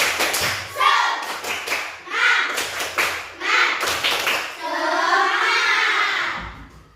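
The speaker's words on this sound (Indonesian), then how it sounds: "Tepuk semangat." A primary school class claps in a quick rhythmic pattern while young voices chant and shout along, loud and close.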